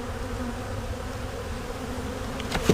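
Honey bees at a hive buzz in a dense, continuous drone with steady tonal hum, close and moderately loud, with a brief sharp knock near the end.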